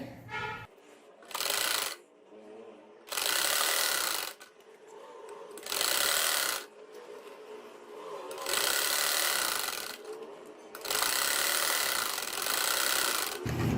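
A sewing machine stitches a poncho for a butterfly-tie salwar design, running in several short close bursts of fast whirring separated by quieter pauses and handling noises.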